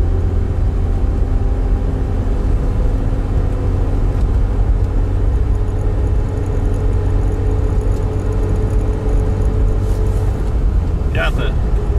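Inside a LADA 4x4 on a highway, the engine drones steadily at high revs in fourth gear while overtaking, a constant low rumble with road noise throughout.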